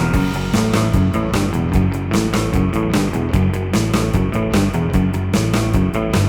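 Electric guitar plays a fast, driving riff with chugging notes and sharp accents, loud and continuous with band-like fullness.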